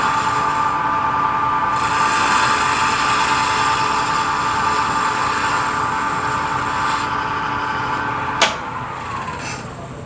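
A skew chisel planes wood on a lathe, cutting toward a pommel: a steady, loud shearing hiss over the spinning lathe's hum, ending with a sharp click as the cut finishes.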